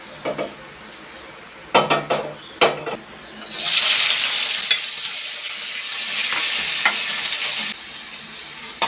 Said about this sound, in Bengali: এখন এই উপকরণটি পরিমাণ মতো ভেজে নিব, যাতে খোসাগুলো সিদ্ধ হয়